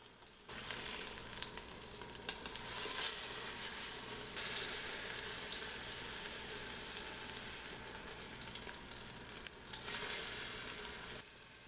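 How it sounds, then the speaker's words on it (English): Pork searing in an Instant Pot, a steady loud hiss of frying that holds throughout with slight swells, no voices. "That is a beautiful sear."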